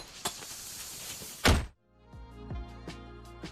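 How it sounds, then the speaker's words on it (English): A grenade goes off in a video game, a single heavy thudding blast followed by a sudden hush, then scattered game sounds and faint music. "It's another grenade."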